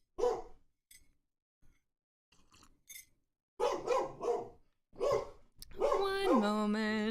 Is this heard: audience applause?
no